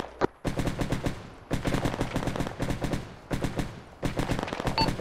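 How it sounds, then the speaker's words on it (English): Rapid automatic gunfire in the military shooter Arma 3, repeated loud bursts of quick shots with only brief pauses between them, close and dominant over everything else, with no voices. "What you shooting at, Kuba?"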